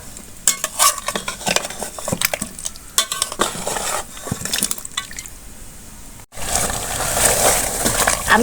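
Potato pieces sizzle and fry in a pan with spiced beef as a utensil stirs and scrapes through the mix in steady close strokes, followed by a louder, more continuous frying hiss near the end.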